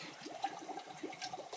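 Water purging out through a hose from a two-zone hydronic heating system, a soft, continuous trickling and gurgling flow, faint and close, with no talk.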